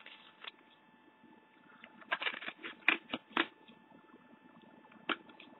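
Scissors trim glued paper in a few quick, close cuts with papery rustling between them over a faint background hum.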